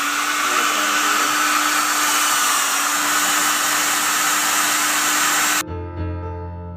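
Hot air blower heating the thermostat from a Bosch condensing dryer, a loud, steady, even whoosh with a constant hum that runs for over five seconds, then abruptly switches off and leaves a brief fading ring.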